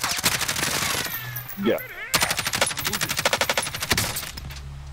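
Call of Duty Warzone gunfire, loud and close, firing in rapid automatic bursts, with a brief pause before a second long burst of rapid shots, while players talk over it.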